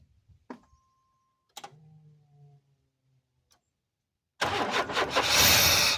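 An old engine is cranked with the key after gas is poured in: a few brief clicks and a short whir, then a burst of rough, loud cranking toward the end, up close with no talking.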